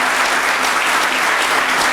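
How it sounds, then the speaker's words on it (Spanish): Large auditorium audience applauding at a Cuban anniversary ceremony honoring the return of the Five Heroes, a dense, steady wash of many hands clapping with no voices on top. "a quien pido un aplauso"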